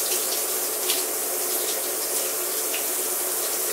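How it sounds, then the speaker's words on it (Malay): Water runs steadily as if from a shower in a toilet stall, a loud, close, continuous splashing rush with no pauses. "ni bunyi dia seolah-olah orang mandi dalam toilet tau"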